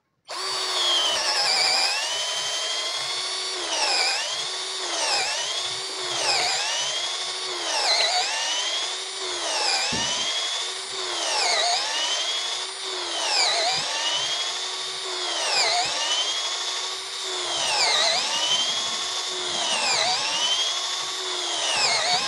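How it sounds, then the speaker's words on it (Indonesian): Nanwei cordless drill boring into mahogany with a 10 mm Bosch wood bit, a loud whirring whine that dips and recovers in repeated cycles as the bit bites, steady for over twenty seconds with no talk. "sekarang kita akan coba mengebor menggunakan mata bor maksimal yang bisa ditampung oleh bor ini, ukuran 10 mm"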